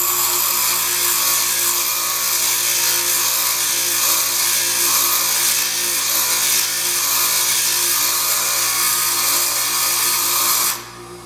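Steel grinding against a sharpening wheel: a steady, loud, continuous abrasive whine that holds for about ten seconds before abruptly dropping off, with no one talking.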